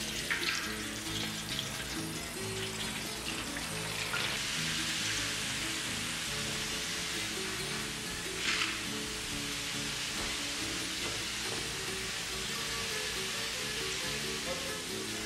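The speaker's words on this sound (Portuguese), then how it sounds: "Agora, enquanto o peixe está fritando" Flour-dredged fish frying in hot fat, a dense, steady crackling sizzle with scattered pops that holds at an even, fairly loud level throughout, with no one speaking.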